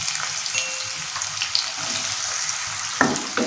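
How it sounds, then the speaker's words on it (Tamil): Chopped onions frying in hot oil with mustard seeds for a mushroom masala, giving a steady close sizzle and crackle throughout, with a few sharper spits and stirring clatters near the end. "அதுக்கப்புறமா நறுக்கி வச்சுருக்க வெங்காயத்தை எல்லாத்தையுமே இதில் இப்போ சேர்த்துருவோம்."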